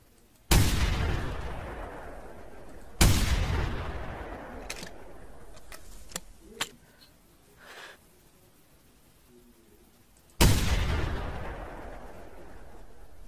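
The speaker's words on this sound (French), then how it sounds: "J'adore tirer les animaux au fusil." Rifle gunshots during a hunt outdoors, three loud booming shots spaced several seconds apart, each with a long echoing decay, plus a few faint clicks and rustles between them.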